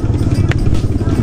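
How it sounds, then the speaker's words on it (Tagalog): A motorcycle engine rumbles nearby on a farm road, a steady low drone with no clear approach or fade, heard under faint background activity. "Yun yung motor."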